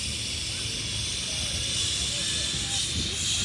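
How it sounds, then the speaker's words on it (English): Small steam engines at an outdoor steam rally give off a loud, steady hiss that runs unbroken through the whole clip, with faint voices and crowd murmur underneath. "And then we've got some more steam engines over here"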